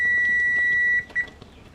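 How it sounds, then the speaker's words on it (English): Kitchen timer sounds while jalapeno jelly is being made, a continuous high-pitched electronic beep that holds for about a second, then breaks into two short chirps before falling away to quiet room noise. "so that was the timer for this"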